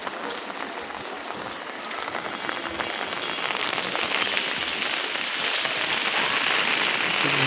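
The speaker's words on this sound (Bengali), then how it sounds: "প্রচুর পরিমাণ বৃষ্টি।" Heavy rain pours down outside a house gate, a dense, continuous hiss of drops pattering on surfaces that builds slightly louder toward the end, with no voices.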